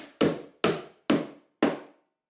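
Four loud, close hammer strikes in steady rhythm drive 1.25-inch roofing nails into a chicken coop roof along the rafters, each blow ringing briefly before the next.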